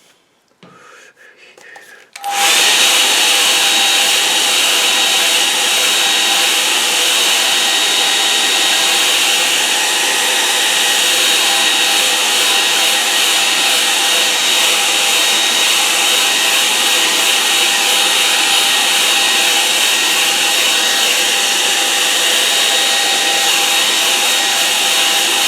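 A hair dryer drying a watercolour painting of a misty mountain scene clicks on after a quiet start and then runs as a loud, steady, close whir for the remaining twenty-odd seconds.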